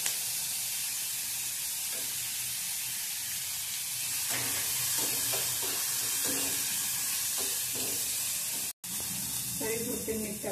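Onion and chopped tomato fry in oil as turmeric goes in, a continuous close sizzle with scattered clatters of stirring and a brief dropout near the end.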